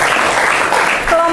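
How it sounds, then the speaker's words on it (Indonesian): A classroom full of students clapping for a group that has just presented, a dense, steady patter of hands filling the short stretch, with a voice briefly rising near the end. "Tepuk tangan dong buat kelompoknya Syifa."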